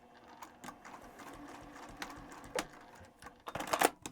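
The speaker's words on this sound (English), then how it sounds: "And then I'm going to go over my stitching, just a couple of stitches." A sewing machine runs a few short stitches back over a seam on a bat-pattern flying geese quilt block, its rapid mechanical whir coming in brief bursts close by, loudest at the end, with no talking.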